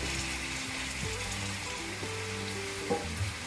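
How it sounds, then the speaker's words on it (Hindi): Potato pieces tipped into onions frying in a pan for aloo palak, producing a continuous close sizzle with a few stirring scrapes and clinks, no voices. "सारे आलू को इसमें डाल देंगे"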